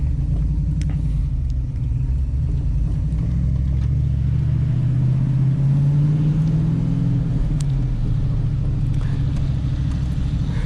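A manual V8 Holden VN heard from inside while driving, its deep engine rumble steady and loud, swelling briefly as the revs climb before settling back.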